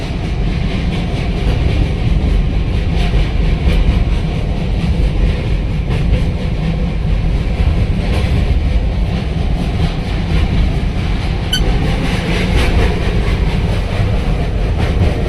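A train rolls slowly across a bridge, rumbling steadily and loudly, a continuous heavy roar with faint rhythmic clatter throughout.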